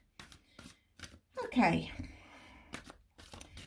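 Tarot cards shuffled by hand, a brief crisp riffling burst in the middle, with soft handling noises around it and a short spoken word.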